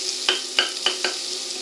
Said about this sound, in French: on va faire suer les oignons